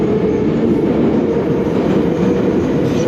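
A metro train running through an underground tunnel in St. Petersburg, Russia: a loud, steady rumble of wheels and carriage noise that fills the whole stretch without a break, with no voices on top.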